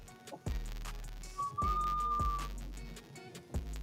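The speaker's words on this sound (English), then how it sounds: "We got a whistle. At least we got a little one." A small hand-blown glass Christmas ornament gives off a thin, steady whistle that holds for about a second at a single pitch, framed by heavy thumps and the roar of the torch.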